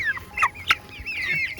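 Young quail chicks peeping and chirping in a quick run of high, wavering calls, close and fairly loud with brief gaps between calls.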